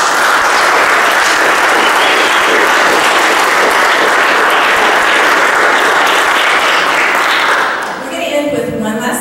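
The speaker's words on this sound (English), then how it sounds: "So I'd like to give all of our staff a big round of applause." Loud, sustained applause from a concert audience thanking the staff, a dense wash of clapping that fades near the end as a string quartet begins playing.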